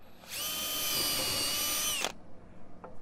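A power drill boring a starting hole for a screw in a rain screen structure, one close, steady whine that lasts about two seconds and then stops abruptly, with no talking.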